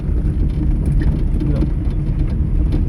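A car engine rumbles low and close while a learner drives slowly, pressing the accelerator gently, producing a steady, unbroken drone.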